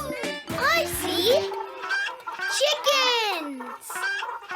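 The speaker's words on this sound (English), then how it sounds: "Chickens!" Chickens cluck and squawk on a farm in a children's cartoon, with short rising and falling calls mixed in among animated voices.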